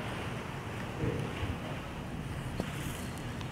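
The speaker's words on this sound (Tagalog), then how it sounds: "Malakas kasi yung hangin." Strong outdoor wind buffets the microphone while chicken roasts on a grill, making a constant broadband roar with a few small bumps and knocks.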